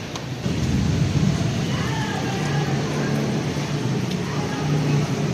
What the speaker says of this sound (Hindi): बारिश तो अभी हल्की हल्की हो रही है,